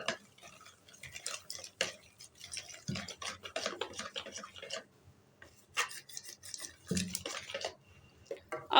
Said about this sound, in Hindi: अच्छे अच्छे तरीके से आपने मिक्स करना है।